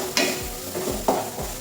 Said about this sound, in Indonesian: Jangan lupa kita terus mengaduk-aduk bumbunya agar tidak gosong sebagian bawah saja,